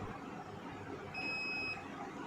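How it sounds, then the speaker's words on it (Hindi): A multimeter gives a steady continuity beep while probing the ECM pins of a Hyundai i20, a single thin tone lasting about half a second over workshop hum. "अभी मैं कंटिन्यूटी चेक करके दिखाता हूँ आपको मीटर से"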